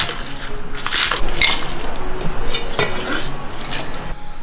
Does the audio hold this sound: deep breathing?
no